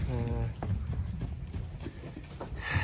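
Mares' hooves clop on the ground in an uneven rhythm, close by, with a brief voice at the start and background noise throughout.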